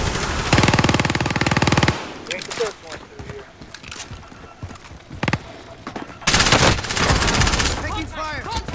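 Bursts of automatic gunfire in the video game Call of Duty: Modern Warfare, loud and rapid, with two long sustained bursts among scattered shots and game sounds, voices heard between.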